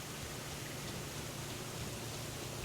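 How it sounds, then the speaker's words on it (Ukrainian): Steady, faint hiss of rainfall in the video game Elden Ring, an even wash of noise with no voices and no changes over the short stretch. "Знову той дощ постійний, тут чомусь"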